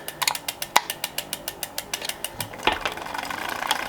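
The drivetrain of a Planet X Maratona road bike grinds during gear adjustment, giving a steady run of rhythmic mechanical ticks that speed up into a continuous rattling whir.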